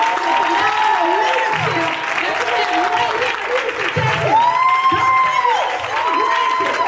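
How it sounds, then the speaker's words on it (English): Audience applause at an iMarketsLive business event, loud dense clapping mixed with crowd cheers and whoops, while a voice speaks over the top through amplification the whole time. "let's give that a round of applause for Kingdom"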